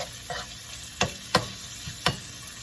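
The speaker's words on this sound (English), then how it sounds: "I like to cook my vegetables down a little bit." Vegetables for an omelette cook in a pan under a low, steady sizzle, with three or four distinct scraping strokes from a utensil standing out clearly; no one speaks.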